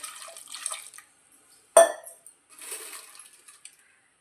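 Water pours and splashes into a pan in short bursts while cooking eggplant gravy, broken by a sharp metallic clink, fairly close.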